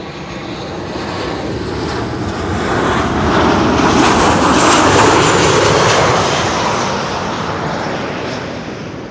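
A fixed-wing airliner landing on runway 06 at Amsterdam Schiphol, a loud broadband engine roar swelling as it passes close, then slowly fading, with no voices.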